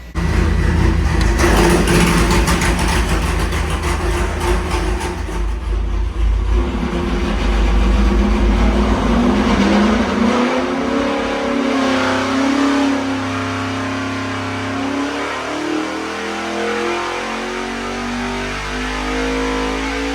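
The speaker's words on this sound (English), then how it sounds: "So it sounds like they're firing the engine up back here." Race car engine on a dyno roars loudly under a hard pull, its pitch sweeping upward. It then drops back and burbles down toward idle, heard close with no talking over it.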